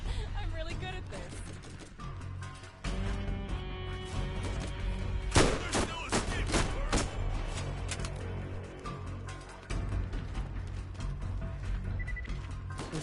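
Gunfire from strafing in Borderlands 2 runs loud and dense throughout, with bursts of shots over music-like tones and a sharp cluster of blasts near the middle, while a voice talks over it.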